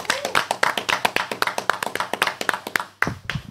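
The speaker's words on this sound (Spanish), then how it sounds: "Un aplauso para Junito Sidrita." Steady clapping from a small group in a podcast studio, sharp hand claps in a quick rhythm for about three seconds, then a brief pause and a few scattered final claps, close and fairly loud.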